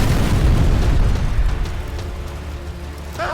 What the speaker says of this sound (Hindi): गाड़ी में एक जोरदार धमाका हुआ।